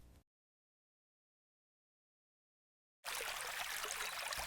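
A thawing mountain stream in spring flows with a steady, broad rush of water that starts abruptly after a long stretch of silence, then holds loud and even to the end.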